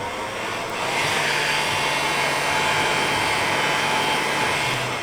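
A heat gun blows a steady, loud whooshing hum while shrinking heat-shrink tubing around camera wiring, rising slightly after the first second and holding constant without talk.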